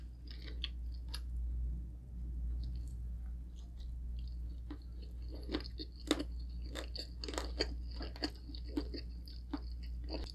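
Close, crisp crunching and chewing of crispy roasted pork belly with rice, irregular bites and crackles over a steady low hum, no talking.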